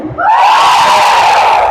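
A large congregation shouts loudly and continuously at a church healing service in Padre Garcia, Batangas, forming one sustained, close, roaring wall of voices that lasts almost two seconds.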